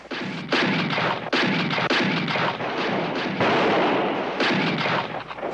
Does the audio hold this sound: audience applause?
no